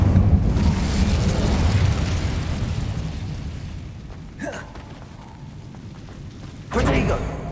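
A fiery Incendio spell blast in the Hogwarts Legacy video game erupts over a rumbling background, with two sharp bursts, a brief one near the middle and a louder, longer one near the end.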